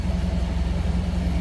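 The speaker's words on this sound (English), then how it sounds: "Let it idle for a bit to let all of the new oil distribute around the engine." A car engine idles steadily just after an oil change, a low, even rumble heard up close with no other sounds over it.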